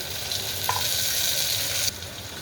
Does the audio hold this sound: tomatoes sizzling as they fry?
yes